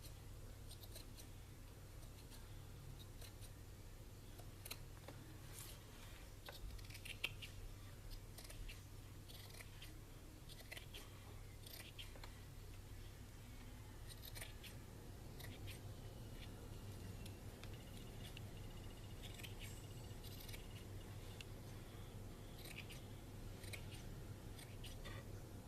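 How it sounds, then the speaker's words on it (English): Scissors trimming a yarn pompom into a round ball, a quiet series of crisp, close snips coming in irregular bursts over a soft background hum. "Now if you want it smaller, then you just keep cutting more off."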